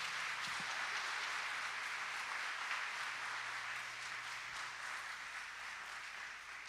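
A church congregation applauding during a sermon, a broad continuous patter of clapping hands that stays even and fairly loud across the whole stretch, gradually softening near the end, with no talk over it.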